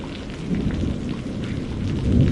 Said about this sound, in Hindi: जोर की बारिश और बिजली गिरने लगी।